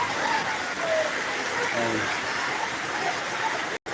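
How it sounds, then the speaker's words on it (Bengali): Heavy rain pours down steadily under cloudy skies, a dense, even roar of falling water that stays loud and unbroken throughout before cutting out abruptly near the end. "দেখেন বৃষ্টি হচ্ছে প্রচুর"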